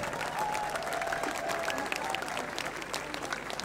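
Warm applause for a Haarlem drum band at the Mars der Muzikanten, a steady wash of clapping from a large, somewhat distant crowd with no talk.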